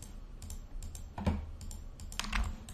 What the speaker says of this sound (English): hold the shift key while clicking on each one of them.